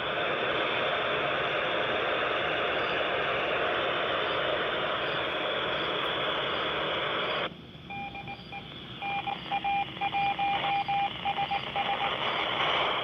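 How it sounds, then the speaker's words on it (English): Radio hiss from an FM repeater tuned to the International Space Station carries a beacon: the hiss drops out midway and faint, repeated electronic tones pulse through the quieter static. "That was a beacon from the space station."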